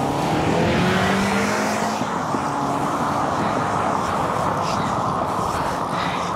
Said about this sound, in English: There is a lot of traffic though.